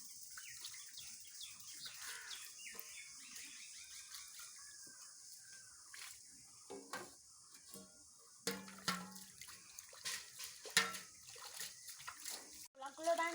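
Washed dishes and plates are rinsed under running water in a home kitchen, a steady splashing stream with clinks and knocks of the plates, growing busier and louder toward the end, with faint birdsong in the background.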